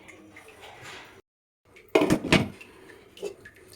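Two seven-inch metal cake molds set onto a preheated stove, heard as a few close metallic clunks and scrapes after a brief pause, with lighter handling noise around them.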